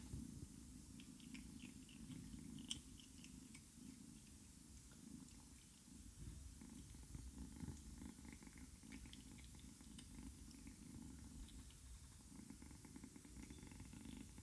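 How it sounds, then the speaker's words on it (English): A rescue kitten purrs steadily and close up, a continuous low rumbling throb that runs unbroken throughout, with faint soft clicks and rustles. "She's purring so loudly."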